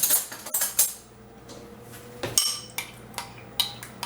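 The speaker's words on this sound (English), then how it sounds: "give this a little bit of a stir here" A spoon stirs food in a pan while stuffed portabello shrimp are made, giving scattered metallic clinks and scrapes, some grouped closely and others spaced out, over a quiet room with no speech.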